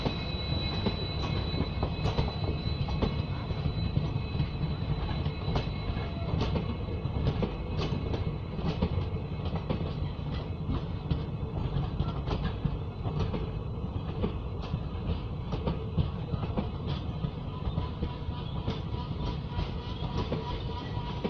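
A train rolls through Sonpur railway station, a steady close rumble with a continuous run of wheel clacks and rail clicks over about twenty seconds, with no voices.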